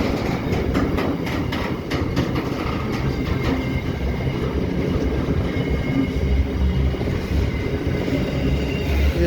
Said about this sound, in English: Waratah A set on platform number 3